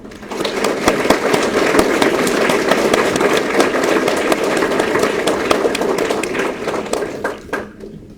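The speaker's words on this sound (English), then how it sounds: "So please join me on one round of applause for Dr." A graduation ceremony audience applauds steadily and loudly, dense clapping holding for about seven seconds before thinning and fading at the end.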